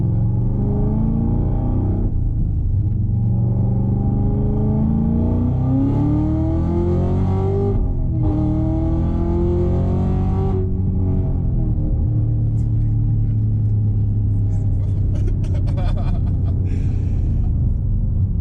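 A 708 wheel-horsepower Chevrolet Camaro ZL1 1LE accelerating hard, its engine note climbing through the gears with a steady, loud rumble that fills the cabin from start to finish.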